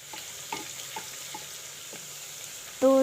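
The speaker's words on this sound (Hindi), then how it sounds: "अब इसमें लहसुन अदरक पेस्ट डालें।" Garlic ginger paste fries in very hot oil with a soft, steady sizzle and a few light stirring scrapes, faint and continuous with no talk.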